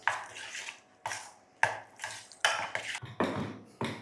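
A protein oats mixture is stirred in a bowl, with repeated scraping strokes about every half second, close and fairly quiet, no talk.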